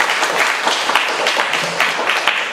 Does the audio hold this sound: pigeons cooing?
no